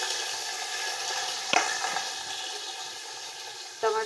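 Tomatoes go into a pan of popping mustard seeds for a ridge gourd curry. A steady, fairly loud sizzle runs throughout, broken by a sharp clatter midway and another near the end.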